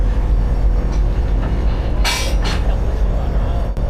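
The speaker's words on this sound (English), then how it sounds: "The coupling of a locomotive must be something very important in China" Railway yard noise at a station in China as a locomotive couples to train cars for a run toward Ulaanbaatar, a steady rumble with two short bright metallic clanks in the middle and a faint knock near the end.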